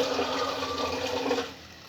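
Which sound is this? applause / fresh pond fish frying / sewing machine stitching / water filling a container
water filling a container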